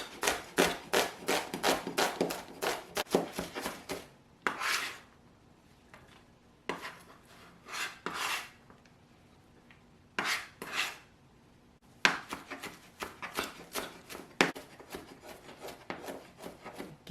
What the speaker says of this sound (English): Giving my cilantro a nice chop.